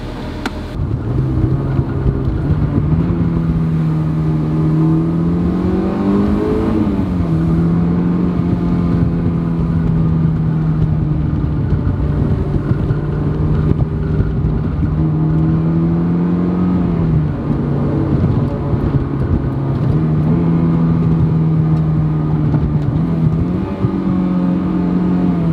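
A Honda S2000 sports car drives and accelerates, its engine note loud and close, rising and falling through several gear changes with steady road rumble throughout and no talking.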